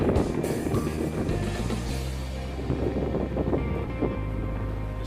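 A boat heading out of a harbor gives a steady low engine rumble with wind buffeting and water wash, close and loud throughout.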